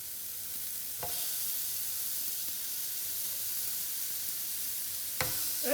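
Beef patties sizzle on an electric griddle set near 350 degrees, giving a steady frying hiss throughout with two sharper crackling bursts as meat goes down, at moderate level and with no talk.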